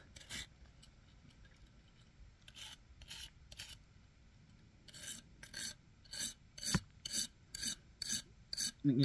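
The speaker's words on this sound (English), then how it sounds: "got me a wire brush here. I'm going to clean up my pliers a little bit and just brush them out, brush them off" A wire brush scrubs stainless steel multi-tool pliers in a series of short, close rasping strokes, sparse at first and then quickening into a steady back-and-forth rhythm.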